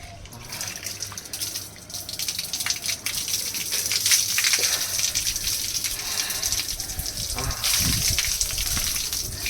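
Cold water poured or gushing over someone while bathing, a steady splashing rush of running water that swells and continues throughout, close and fairly loud, with a voice talking faintly over it.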